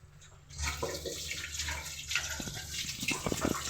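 Water poured from a vessel into a pan of tomato and paneer gravy, a short trickling splash that starts after a brief quiet moment and keeps up, close and soft.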